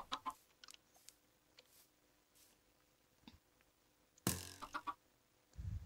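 Chicken clucking in the Minecraft video game, a few soft, brief clucks scattered over a quiet background, with no talking.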